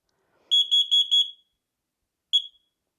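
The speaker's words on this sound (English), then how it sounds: "it will run through a test, a series of alarms so you know what it sounds like if it goes off." A portable travel smoke alarm runs its self-test: four rapid shrill piercing beeps in a quick burst, a pause, then one more beep, clear and alone in a quiet room.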